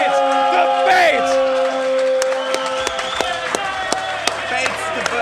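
Tournament crowd at a Guilty Gear Xrd grand final cheering and clapping steadily throughout, with sharp claps and whoops rising over the din while game music and an excited commentator's voice run underneath.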